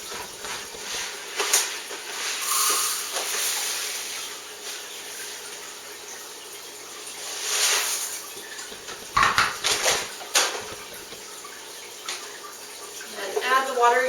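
Water pours into a bowl holding about six cups of rice for washing before brewing sake, a soft splashing gush that rises and falls in a few surges, with faint background noise and no talking.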